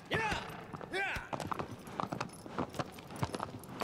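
Horse hooves clip-clop in Shadow of the Colossus on PS4, a string of close, regular hoof strikes with a voice briefly heard over the steps.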